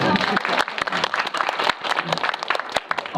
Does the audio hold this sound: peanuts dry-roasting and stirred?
no